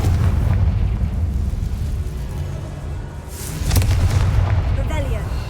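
A Confringo fire spell bursts in the video game Hogwarts Legacy, giving heavy, rumbling booms, with a fresh blast swelling near the end over a dense, continuous game backdrop.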